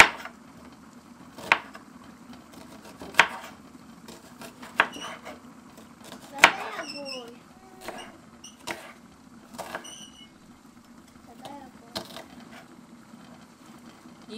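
A knife chops onion on a cutting board while spaghetti and sausage are being prepared: sparse, crisp knocks about every second and a half, with faint kitchen clatter between them.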